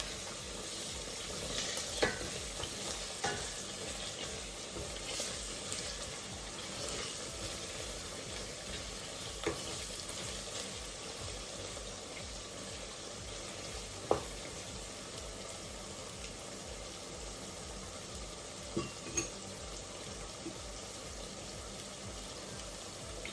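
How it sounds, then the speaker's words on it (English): Madras chicken curry masala sizzles softly in a pan while being stirred, a faint steady frying hiss with occasional light scrapes and taps of the spoon, no voices. "Make sure you keep stirring it every 5-10 seconds or else the masala will burn."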